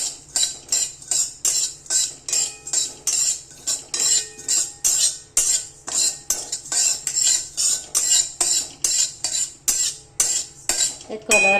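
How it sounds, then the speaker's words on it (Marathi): Poppy seeds roasting lightly in a pan for date and dry-fruit laddoos, with steady, rapid spatula scrapes against the metal repeating closely throughout. "आता इथे हलकीशी साधारण खसखस भाजून घ्यायची आहे"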